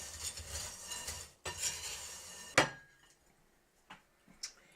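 A spoon stirs a spice mixture through rotini pasta in a pan, with scraping and clattering strokes in bursts, then a sharp clank and a few faint taps as the stirring stops.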